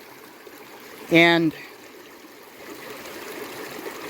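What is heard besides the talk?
spring water trickling at a spring house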